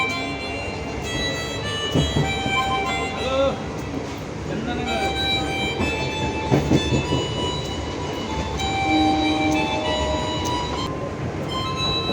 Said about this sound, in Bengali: এক্ষুনি ট্রেনটা ঢুকবে বলে